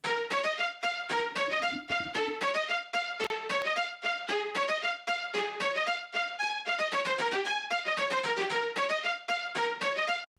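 Short, clipped string-synth stabs play a busy rhythmic melody in a TikTok remix, loud and steady with no talking, each note cut off sharply in quick succession for about ten seconds.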